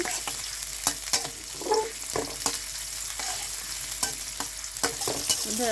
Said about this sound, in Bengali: পেঁয়াজ কুচি দিয়ে দিলাম দুইটা এখন ভেজে নেড়ে নিচ্ছি